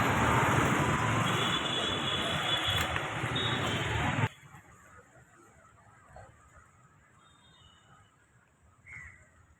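A train makes a loud, rushing rumble at Ambur railway station, then cuts off abruptly, leaving a quiet platform with faint crow caws.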